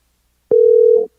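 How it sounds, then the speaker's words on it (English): A steady electronic telephone tone sounds alone for about half a second, loud and clean, starting abruptly and cutting off just as sharply, with no talk over it. "We can hear the phone, yeah."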